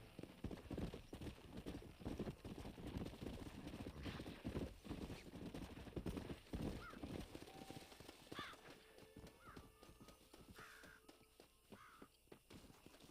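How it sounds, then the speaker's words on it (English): A horse walks in Red Dead Redemption with steady clip-clopping hooves, accompanied by a whinny and a few bird caws, quiet and continuous with no talk. "It's cool that we got a new horse"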